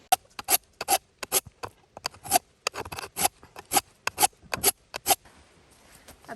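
A dull axe being sharpened with a handheld sharpener tool, a series of quick rasping scrapes in irregular bursts, close and crisp with short pauses between strokes.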